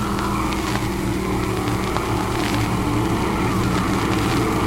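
Race cars run laps at Stateline Speedway, a loud steady engine roar with overlapping drones from the field and no break in the noise.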